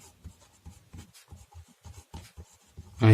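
Writing during a Hindi-medium class 8 maths lesson on linear equations in one variable: a quick, close run of short scratching strokes, followed by a sudden louder noise at the end.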